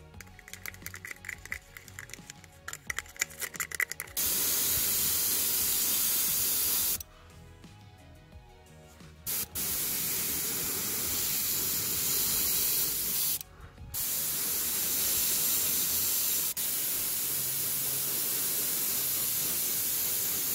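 Airbrush spraying Model Air Russian Green base coat onto a model M3 Lee tank, a steady close hiss in long bursts broken by brief pauses and short clicking gaps.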